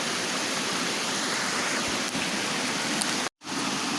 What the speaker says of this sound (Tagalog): Ang ilog na nag-iilog pag umuulan lang.